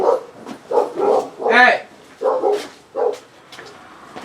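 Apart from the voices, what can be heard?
dogs barking at a passer-by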